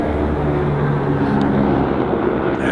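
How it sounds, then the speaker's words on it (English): A low, steady rotor-and-engine drone hums continuously overhead, loud and unchanging throughout, with no talking. "Helicopter."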